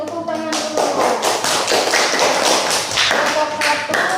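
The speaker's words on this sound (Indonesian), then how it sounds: "Tepuk tangan dulu." Classroom applause after a student group's presentation, a dense burst of many hands clapping loudly for about four seconds, with a few voices faintly mixed in.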